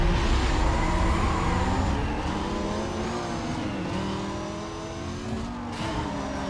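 Porsche 911 Carrera racing in Need for Speed: Most Wanted 2005 on PS2, its engine droning loud and close with rising and falling revs as gears shift, other cars' engines mixed in.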